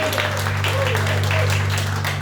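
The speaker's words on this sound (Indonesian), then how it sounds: "Berikan tepuk tangan yang meriah buat Allah" Congregation applause during a Christmas church service, a dense wash of clapping over a steady low hum from the sound system, with some voices mixed in and no gaps.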